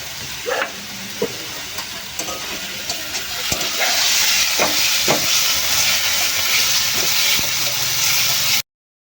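Oil being added for a village-style chicken curry, with scattered stirring clicks at first, then a loud, close hissing sizzle that swells midway and holds until an abrupt cutoff.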